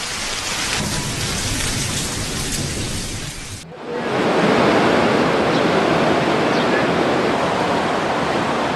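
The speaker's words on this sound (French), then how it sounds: "une pluie torrentielle nous fait changer de programme" Torrential rain pours down in a loud, steady broadband wash with rumbling thunder, the downpour briefly dropping away before surging back even heavier, no voices over it.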